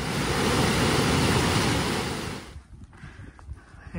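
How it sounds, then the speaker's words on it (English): The French Broad River rushes along a forested stretch of the Appalachian Trail as a loud, steady broadband roar that drops off sharply partway through, leaving faint scattered rustling noise. "And this one is the French Broad River."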